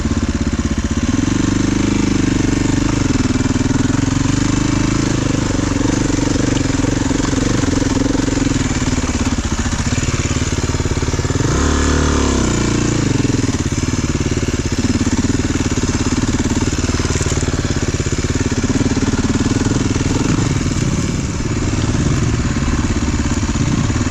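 An adventure motorcycle engine runs continuously while riding on a sloppy day at old St. Joe, a loud, steady mid-pitched drone that rises and falls slightly with throttle throughout.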